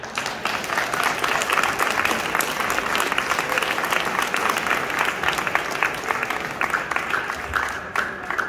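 Sustained audience applause for a singer at a UN event in 2023, steady dense clapping from a large crowd lasting several seconds without a break.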